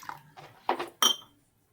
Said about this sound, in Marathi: आणि कुकरचं झाकण लावून त्याला शिजवायला ठेवायचं।